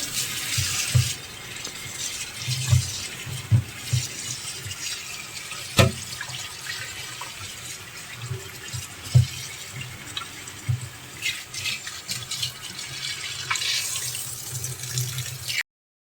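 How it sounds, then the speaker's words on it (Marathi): Cold tap water runs steadily over boiled noodles draining in a strainer in a home kitchen, a continuous splashing hiss with intermittent low thumps and clatter as the noodles and mesh are handled. "आता हे यातलं पाणी गरम काढायचं आणि मस्त थंड पाण्याखाली घ्यायचे"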